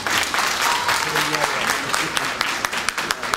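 A crowd at a community gathering in Philadelphia gives sustained applause for young fighters. The clapping is dense and close, and it thins toward the end as individual claps stand out. A voice speaks briefly over it.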